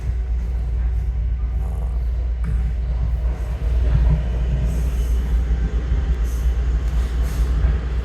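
A Long Island Rail Road train pulls out of Grand Central Madison toward Harold interlocking, heard from inside with a loud, continuous low rumble of wheels on track, faint squeals and a slight swell midway.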